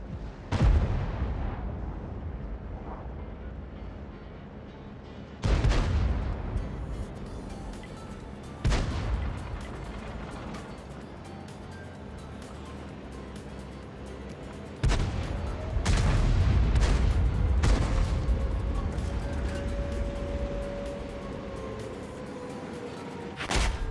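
Tank cannons fire in the World of Tanks video game: several loud, booming shots spaced seconds apart, each with a long rumbling decay, one followed by a whistling shell sound.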